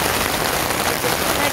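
Steady rain pattering on a surface at Changi Beach, Singapore, a dense, even wash of droplets that continues without a break for the whole stretch.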